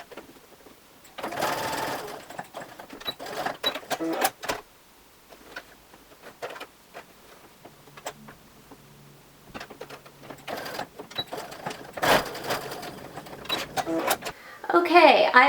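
A sewing machine stitches fabric for a small travel tissue holder, running in several bursts of whirring mechanical chatter separated by pauses and short stops for backstitching, loud and close, with a brief voice near the end.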